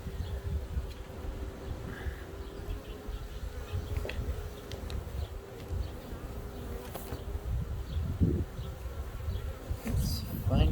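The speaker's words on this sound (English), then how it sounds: "the cluster of bees might be on the underside of the lid" A honey bee swarm being hived hums and buzzes around the hive, a close, continuous drone with individual bees zipping past amid light rustling.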